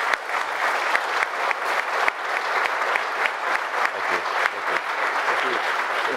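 Steady audience applause at a talk with founders Chris and Jason Kingsley, dense continuous clapping filling the whole stretch at an even level, with faint voices mixed in underneath.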